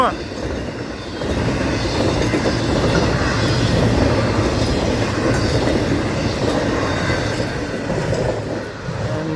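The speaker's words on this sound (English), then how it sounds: "Not a humongous train today, but a good sized train nonetheless." A Florida East Coast Railway freight train carrying flatbeds stacked with lumber rolls past close by, a steady loud rumble of wheels and cars with clickety-clack and faint wheel squeal throughout.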